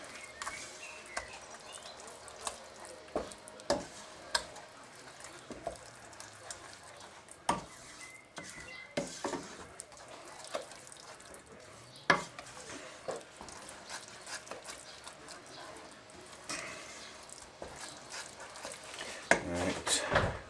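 Chinese curry sauce being stirred in a pan, with steady scraping and soft clinks of a utensil against the metal, plus light sizzling at moderate volume and no talking.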